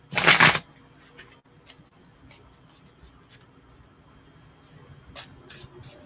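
Psychic reading cards are riffle-shuffled in one loud, close burst at the start, followed by soft card handling, light taps and faint slides at irregular intervals.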